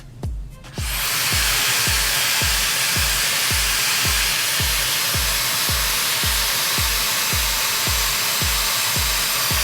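A Dyson Airwrap-style hair styler blows hot air in a steady, loud whoosh, with a rapid rhythmic pulsing under the airflow as the styler is shaken, and no talking.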